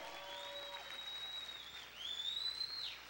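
A church congregation applauding during a sermon, a steady wash of clapping heard somewhat distantly with a thin whistle tone riding above it.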